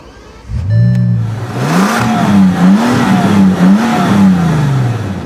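A 2010 Bentley Continental's W12 engine accelerates in a loud, deep roar that swells and dips through several rising revs, climbing steadily after a brief quiet start.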